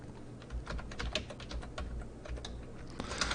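Someone types on a computer keyboard close by, a quick irregular run of clicking keystrokes with short pauses and a denser burst at the end. No speech.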